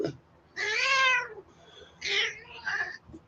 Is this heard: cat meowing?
yes